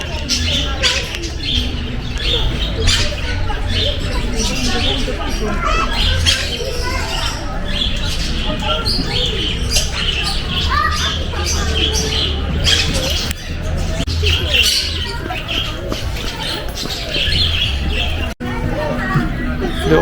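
A mixed aviary of golden pheasant, Senegal parrot, cockatiel and quail gives off steady squawks and chirps, dense and fairly loud throughout, with a busy outdoor murmur around it.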